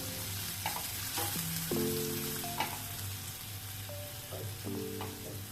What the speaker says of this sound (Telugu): కారం 2 స్పూన్స్, ధనియాల పొడి ఫ్రై చేసుకుందాం.